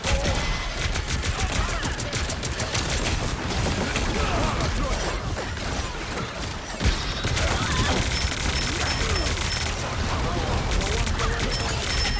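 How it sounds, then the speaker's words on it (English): Rapid gunfire from the hero shooter Marvel Rivals, with dense overlapping shots and game effects crashing continuously under a busy mix, with a louder burst near the middle. "since they're all shooting at me, I cancel it"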